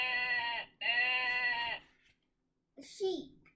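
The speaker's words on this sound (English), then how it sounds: "That was the sheep." A sheep bleats from a children's animal sound book: two long, wavering bleats close together, followed after a pause by a brief, fainter vocal sound.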